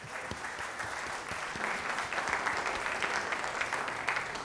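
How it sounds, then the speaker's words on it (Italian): Studio audience applause for guest Fabrizio Milanesio on a live TV music show, a sustained, moderately soft wash of clapping that swells slightly midway, with no talk over it. "Facciamo un grande applauso a Fabrizio Milanesio dello Studio Fasi."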